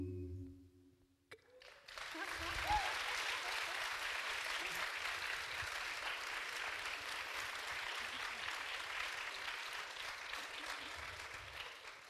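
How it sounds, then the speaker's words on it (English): An audience at an a cappella festival concert bursts into sustained applause after a brief quiet moment. The clapping stays dense and even for about ten seconds and comes across as moderately distant. "It also is very useful to us to know that you like to clap your hands."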